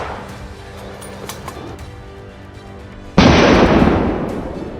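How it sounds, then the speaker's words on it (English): A hunter's gunfire at a herd of wild boars erupts suddenly and loudly after a stretch of quieter rustling, then rolls on as a sustained blast that slowly fades. "Finn was the one to open fire."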